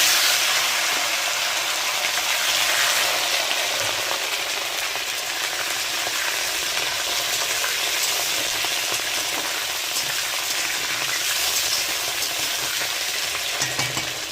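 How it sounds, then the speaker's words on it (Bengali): Potatoes frying in hot oil with whole cumin seeds, giving a steady, loud, continuous sizzle with faint stirring scrapes throughout and no talking. "জিরা গোটা জিরা কিন্তু ভাজা হয়ে গেছে, এখন আমি আলু দিয়ে দেবো।"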